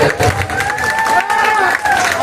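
An audience breaking into loud applause and cheering, a thick, close roar of clapping with a tonal voice or music line running through it.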